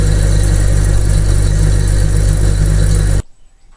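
A ceiling fan coil winding machine runs with a loud, steady motor hum and low-pitched drone for about three seconds, then it stops abruptly and the sound falls to near silence.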